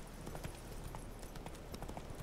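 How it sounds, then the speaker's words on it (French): Roach the horse trotting in The Witcher 3, a steady run of hoof clip-clops with even rhythm, moderately close but quiet, alone without talk. "Viens ici mon petit cheval"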